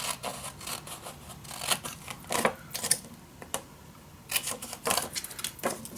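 Paper for a Christmas mini album being cut, a run of irregular crisp snips and paper rustles close by, with brief pauses between bursts.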